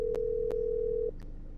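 A steady electronic ringback tone from a phone call to Grandpa in a horror game, one flat sustained beep lasting about a second with faint clicks, then cutting off to quiet.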